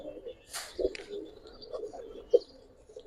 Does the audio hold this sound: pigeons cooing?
yes